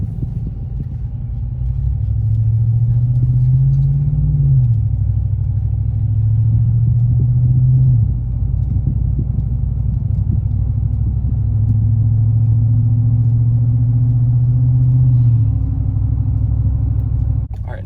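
A Chevy Silverado/GMC Sierra pickup pulls away under normal stock-throttle acceleration, its engine rumble climbing steadily through two gear-like sweeps, loud and continuous from inside the cab.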